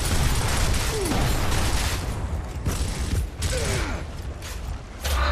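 Continuous clattering mechanical cranking of a mounted gun in Gears of War, with ratcheting clicks and rapid bursts, dense and loud throughout, with a couple of brief squeaks.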